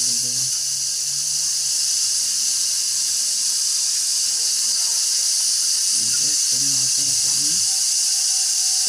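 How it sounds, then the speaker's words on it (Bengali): Water poured into hot oil with spices sizzles in a loud, steady, continuous hiss that fills the whole stretch, with a voice briefly speaking over it near the end. "জল দিয়ে দেবো।"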